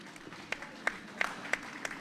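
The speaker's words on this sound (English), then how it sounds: "we hear the applause in the background" Scattered applause at a junior curling bonspiel, a handful of distinct claps at irregular intervals over a low crowd murmur.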